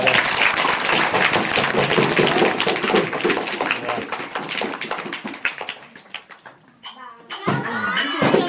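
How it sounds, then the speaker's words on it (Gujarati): Loud, sustained applause from a crowd at a Gujarati school comedy play fills most of the clip, thinning out near the end before a few sharper bursts return. "તાલી પડે તાલી પડે."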